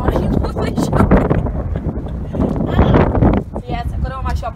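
Strong gusty wind from Storm Doris buffets the microphone outdoors beside a VW Transporter Kombi T32 van, a loud, rumbling roar that surges and fades while someone talks over it.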